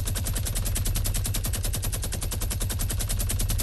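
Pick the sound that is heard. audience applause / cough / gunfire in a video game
gunfire in a video game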